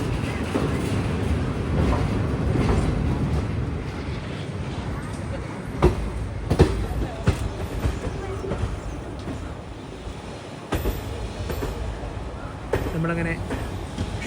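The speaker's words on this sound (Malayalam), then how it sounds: "11:24 ട്രെയിൻ ഇപ്പോൾ ഷൊർണൂർ ജംഗ്ഷനിലേക്ക് എത്തുകയാണ്." Jan Shatabdi Express train rolling toward Shoranur Junction, heard from inside a carriage as a steady rumble with wheel clicks and clatter over joints, a few sharper knocks, and faint voices in the background.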